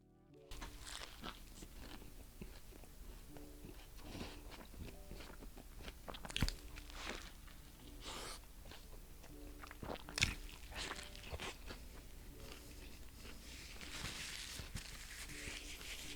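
Bites and crunches into an A&W Ruffles Crunch Teen Burger topped with cheddar and sour cream potato chips, a string of close, crisp crunches repeating irregularly with soft chewing in between and no talking.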